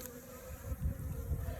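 Bees in a sparsely populated hive hum in a faint, steady low buzz that carries on without a break, with no voices heard.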